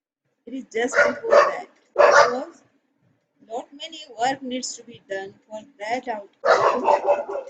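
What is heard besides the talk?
dogs barking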